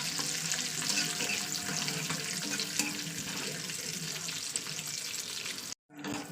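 Cumin seeds and a cut dried chili fry in butter in a pan for mango dal, giving a steady close sizzle that stops with a brief drop to silence near the end.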